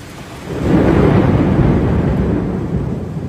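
A loud thunderstorm with heavy rain in Wuhan, Hubei, China: a deep rolling rumble of thunder swells in and lingers over a dense hiss of pouring rain.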